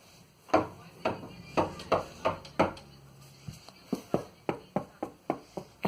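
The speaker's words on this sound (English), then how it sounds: "Knock on the door." Knocking on a door: a steady series of about fifteen sharp, hollow raps with a brief pause midway, close and alone.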